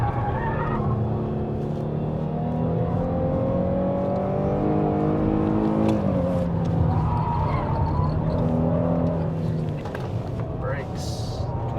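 A GM SUV runs hard around a racetrack, its engine drone and tire noise steady under continuous close conversation from people inside the cabin. The pitch rises and falls as the vehicle accelerates between turns.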